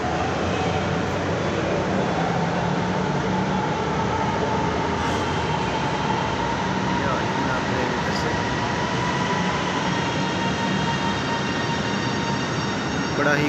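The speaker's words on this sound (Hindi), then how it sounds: "तो ये जनाब हमारी ट्रेन आ रही है उधर से" Train pulling into a station with a steady, loud rumble of wheels on rails, faint squeals and a brief high tone or two, continuous throughout with no pause.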